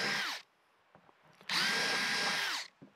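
Power drill boring through a plastic fuel tank during a diesel heater install in a van, two bursts: a short one under half a second, then a steady run of about a second, with a clear pitch dip as it slows, near and loud.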